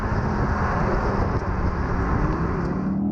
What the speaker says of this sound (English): There's also a lot of road noise.